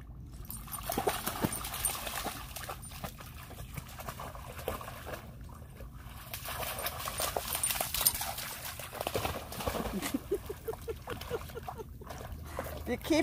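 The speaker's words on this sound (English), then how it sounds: "Don't bark, you're gonna scare the fishies." A dog plays by a river, giving short yelps and whimpers over the continuous background rush and trickle of flowing water outdoors.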